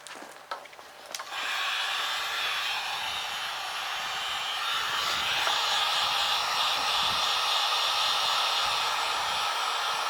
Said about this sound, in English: So I got the heat gun plugged in over here.